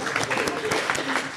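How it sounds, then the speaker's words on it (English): Audience in a lecture hall applauding together, a steady dense patter of clapping that fills the moment without a break. "give yourselves a round of applause"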